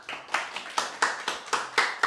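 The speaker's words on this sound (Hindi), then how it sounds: "प्रियांश के लिए ताली बजा दो जोर से" A group of students claps in uneven bursts of applause, several sharp claps in a row, fairly close and steady for a couple of seconds.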